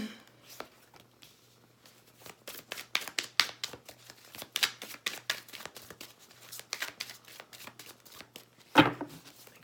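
Oracle cards are shuffled by hand in a continuous patter of soft riffling flicks that stays close and steady for several seconds. Near the end comes a sharper slap as the deck is squared.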